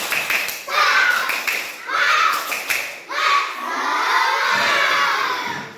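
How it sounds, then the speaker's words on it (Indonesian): Schoolchildren in a classroom shout a spirited clapping chant together in three loud rhythmic bursts, ending in sustained cheering from the whole group. "Tepuk semangat."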